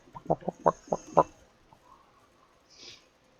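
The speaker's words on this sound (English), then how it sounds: "You feed the chickens seeds." Chickens in the video game Valheim give a quick run of about five sharp clucks close by, followed by quiet ambience.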